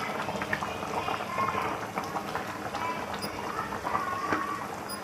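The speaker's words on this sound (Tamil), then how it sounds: "நல்லா குழம்பு நல்லா கொதிச்சு வருது." Potato kuzhambu curry bubbles at a rolling boil in a pot, a dense continuous gurgling and popping, moderately close and steady throughout, with no one talking over it.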